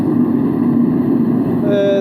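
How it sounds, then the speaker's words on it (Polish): A steady, loud roar of a gas burner in a steel-melting furnace, a continuous rumbling whoosh with a faint tonal whine creeping in near the end. "bo to jest dźwięk palnika już, także to nie jest jakiś tam rezonans."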